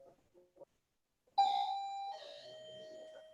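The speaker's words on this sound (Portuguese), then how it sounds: "Desculpa, campainha, falhas técnicas." A doorbell rings with a clear two-tone ding-dong chime after a few faint thumps, its tones ringing out and fading inside a quiet room.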